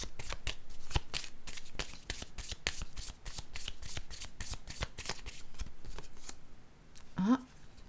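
Oracle cards being shuffled by hand in a run of quick, crisp riffling bursts, close and steady, with a short rising vocal sound near the end.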